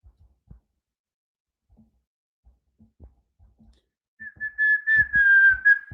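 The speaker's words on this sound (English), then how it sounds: "So y'all don't like when I whistle." After several seconds of quiet scattered clicks and taps, a person whistles a steady sustained tone close to the microphone, lasting under two seconds with some handling thumps underneath.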